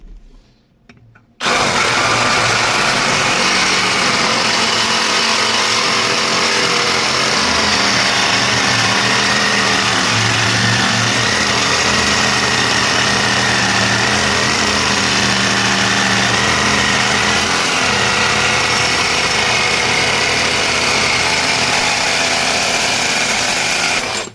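A LEADER Ultra BL20-22M cordless brushless reciprocating saw cuts through 25x25 steel angle, a loud continuous buzzing rasp of blade on hard metal that runs steadily for over twenty seconds after a brief quiet start, with no talking.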